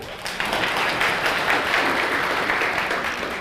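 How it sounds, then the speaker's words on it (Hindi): Students in a classroom break into brisk, dense clapping that starts abruptly and holds at an even level for a few seconds, close by and with no talk over it. "अब बजाओ तालियां।"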